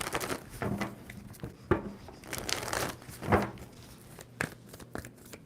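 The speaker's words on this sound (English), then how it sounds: "Two more shuffles for Cancer." A tarot card deck is shuffled by hand in a quiet indoor space, giving close, papery riffles and crinkly bursts in uneven clusters, with brief soft pauses between them.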